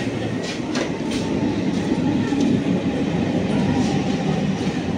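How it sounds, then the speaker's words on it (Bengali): A train rolls into a station platform with a loud, continuous rumbling roar and faint rhythmic wheel clatter, close by and steady throughout, with some background crowd noise. "দেখো ট্রেন ঢুকে গেছে, ট্রেনটা ধরতে পারবো না।"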